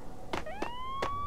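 Police sirens in the Max Payne video game rise in faint wailing tones at a distance, overlapping with a few soft thuds, quiet and brief.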